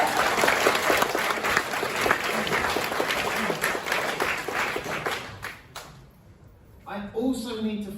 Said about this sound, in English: So can I get a round of applause for all the mentors?